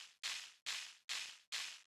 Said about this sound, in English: Then the kick also has a kind of noisy top layer,